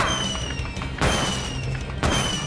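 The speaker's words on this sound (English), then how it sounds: "Fireworks." Fireworks bursting in the Super Mario Bros. Wonder video game, two loud booming thuds about a second apart over continuous bright game music.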